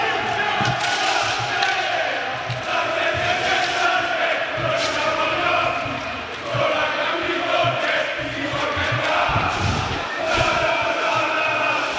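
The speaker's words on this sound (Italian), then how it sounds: "Si scalda il clima con i tifosi del Lodi che si producono in canti propiziatori per la propria formazione." Lodi supporters chant in rhythmic unison at a Serie A1 roller hockey match in an indoor arena, a loud, continuous wall of crowd voices with a commentator speaking over it.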